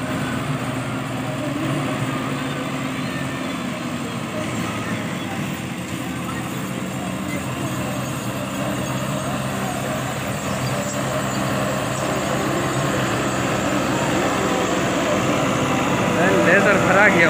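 An NH Dabung 85 laser-fitted tractor engine runs steadily and loudly throughout, a continuous drone with rumble and whine, while someone talks over it.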